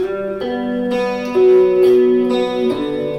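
Electric guitar picks out a short melodic phrase, single notes ringing and shifting in pitch over a few seconds, played alone with no voices.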